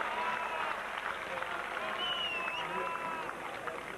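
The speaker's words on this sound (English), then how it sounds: "Big cheer from the Finnish contingent." Crowd of Finnish fans at the 1998 European athletics championships cheering a men's javelin qualifying throw, a fairly faint, distant swell of cheering and clapping lasting a few seconds.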